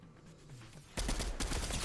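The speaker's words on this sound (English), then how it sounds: "I see the gunshots coming up" Gunfire in the Fortnite video game: a loud burst of rapid shots starts about halfway through and continues to the end, with quieter game sounds before it.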